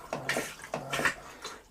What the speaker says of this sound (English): So to put the flush water through on the cassette toilet,